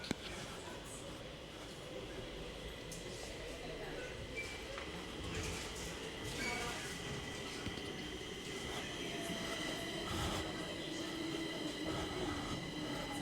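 A train runs by steadily, its wheels rumbling and squealing on the rails, fairly loud throughout with a high metallic whine, and voices faintly underneath.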